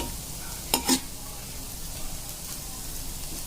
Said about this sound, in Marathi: अजून मी याला पाच ते दहा मिनिट असं छानपैकी फ्राय होऊ देणार आहे